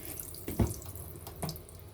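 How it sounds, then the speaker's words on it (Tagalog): Water runs from a faucet fitted with a clogged, dirty water filter, making a weak, steady trickle with a few brief splashy surges, close by and fairly quiet. "habang pinapatulo to siya ng pinapatulo, humihina"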